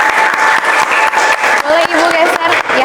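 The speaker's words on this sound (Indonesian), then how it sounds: "Kita sambut ya, kita mungkin tepuk tangan" Loud, steady applause from a podcast studio audience welcoming a guest, with talk running underneath and a few tonal voice traces.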